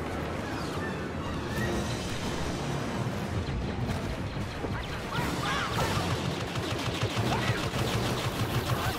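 Blaster fire in a Star Wars Battlefront battle, a continuous chaotic wash of rapid energy-weapon shots and explosions layered over a loud battlefield roar, steady throughout with no clear pauses.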